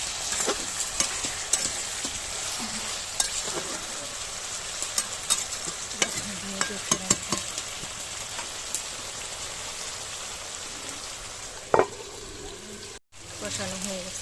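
Tomatoes being sautéed for a village-style fish curry with pointed gourd and potato fill the pan with a steady, rain-like sizzle, scattered by scraping and tapping from stirring, sustained and close throughout.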